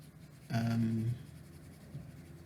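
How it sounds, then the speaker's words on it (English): Board eraser wiped across writing on a classroom board during a mathematics lesson, a single brief rubbing stroke of about half a second, fairly close and clear, with quiet room tone before and after. "now I'm gonna erase the work that I've done here"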